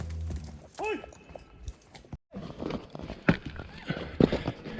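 A herd of cattle plods up a mountain hiking trail, hooves knocking on rock in an uneven rhythm, with people shouting and calling to the animals over the steps.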